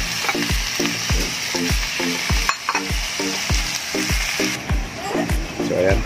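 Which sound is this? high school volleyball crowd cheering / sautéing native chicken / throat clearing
sautéing native chicken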